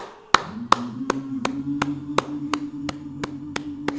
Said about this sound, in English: Oh, claps.